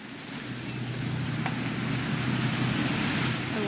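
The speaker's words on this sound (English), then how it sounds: "It's gonna rain the whole weekend," Steady rain pours in a video game setting, a dense continuous hiss with a low rumble beneath and no voices.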